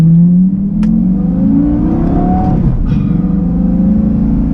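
A 2008 Lamborghini Gallardo engine revs loud and close, a steady throaty drone with rising and falling pitch across the clip, running alone without voices.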